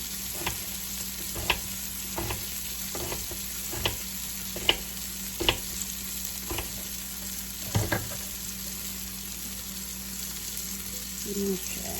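Fairy tale eggplant and onions frying in a pan give a steady bright sizzle, punctuated by regular sharp taps and scrapes of a spatula stirring, close and even throughout with no voices.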